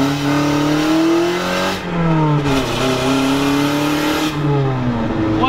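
A turbocharged car with a limited-slip differential pulling hard at full throttle through a U-turn, its loud engine note rising through the revs with brief shift dips, close and continuous with no voices.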